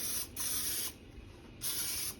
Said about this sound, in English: get some Pam, and then pretty liberally spray